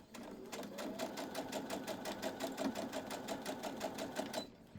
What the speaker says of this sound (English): So I sew 1/4 inch seam allowance right there.